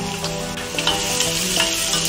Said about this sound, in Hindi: जीरा हल्का भुन गया है, अभी मैं इसमें अनियन ऐड कर रही हूँ।